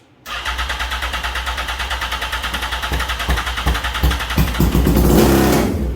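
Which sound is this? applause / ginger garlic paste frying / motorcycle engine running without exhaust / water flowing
motorcycle engine running without exhaust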